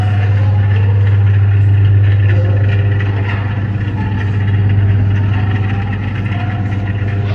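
A vintage vehicle's engine idles loudly and continuously in a motor museum, a low throbbing hum holding even throughout with no talking over it.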